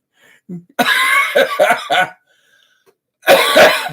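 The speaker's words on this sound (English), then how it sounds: "Pardon my cough. It's still with me." A loud, close bout of harsh coughing in several rough bursts, a pause of silence, then another heavy cough.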